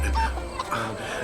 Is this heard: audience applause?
no